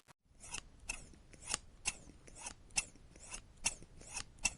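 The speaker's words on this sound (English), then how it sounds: "Let's open it. I have my scissors here." Scissors slice open a cardboard box in a series of crisp snipping and rasping cuts at an irregular rhythm, close and fairly quiet, with soft rustling between the cuts.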